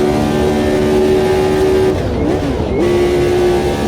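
A retro Formula One car in Automobilista 2 screams at high revs in top gear, a loud steady engine whine that dips briefly in pitch before settling back to a sustained drone, with no talk.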